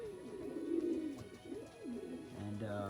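Young pigeons coo softly in a loft, with several overlapping low, rolling calls at moderate distance and no talking.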